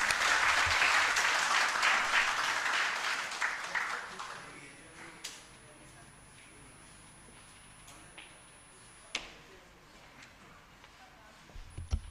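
Audience applause welcoming a speaker at a public lecture on peace in Aceh, a dense burst of clapping that fades over about four seconds, followed by a quieter room with a few scattered claps and faint shuffling.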